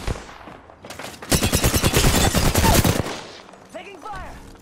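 Rapid automatic gunfire in a video game: a dense burst of loud shots lasting about two seconds, followed by quieter scattered effects and short electronic chirps.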